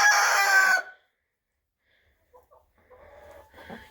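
A chicken lets out a loud, close crow that lasts under a second, then after a pause comes a scatter of softer clucks and murmuring fowl noises.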